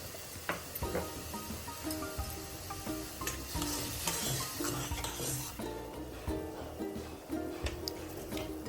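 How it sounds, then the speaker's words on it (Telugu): Water with cumin seeds and sesame seeds heating in a pan for chekodi dough gives a continuous soft sizzle and bubbling, joined by intermittent stirring scrapes and light utensil clinks close by. "కొంచెం వాటర్ మరిగించుకోవాలి"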